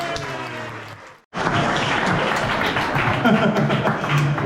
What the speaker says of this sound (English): if you keep the applause going, maybe about 10 or 15 seconds worth